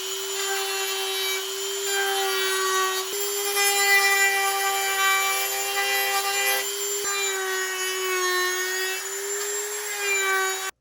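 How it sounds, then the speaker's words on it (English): A Dremel rotary tool grinds plastic Stormtrooper armor pieces for the kidney and butt sections. It gives a steady, high, whining hum that shifts pitch slightly several times as the tool presses and eases off, with no talking. "all we need to do is Dremel and sand to get our pieces right where we want them"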